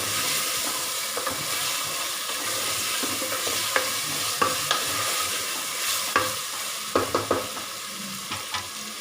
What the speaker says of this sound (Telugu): మొత్తం మటన్కి ఆయిల్ అంతా కలిసేలాగా కలుపుకోవాలి.